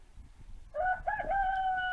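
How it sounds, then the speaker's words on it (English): A cockerel kept with a flock of hens crows once outdoors on a miserable morning, a clear, fairly close call with a rising start and a long held ending. "Cockerel's enjoying himself with his 22 hens."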